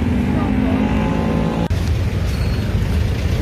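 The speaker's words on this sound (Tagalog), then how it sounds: "Grabing traffic po dito." Heavy road traffic rumbles steadily and loudly, a dense wash of engine and tyre noise with voices talking over it throughout.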